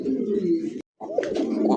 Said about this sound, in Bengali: দর্শক এই মুহূর্তে দেখতে পাচ্ছেন ককা কবুতরের যে ডাক, হ্যাঁ দেখেন ডাকটা শোনেন